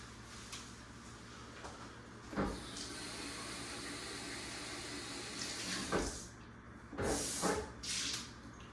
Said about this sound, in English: I'm gonna rinse out my beaker.